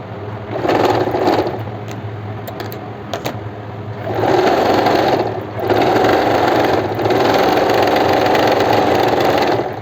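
A sewing machine stitches the crotch seam of palazzo pants in several loud bursts of fast, steady whirring, separated by short pauses, with a low motor hum underneath and no talking.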